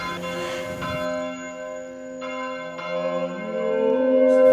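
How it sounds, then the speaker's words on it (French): Big hand-pulled cathedral bells swinging at full peal toll and hum, a few strikes blending into long ringing overtones that slowly swell louder. "ce sont les très belles cloches"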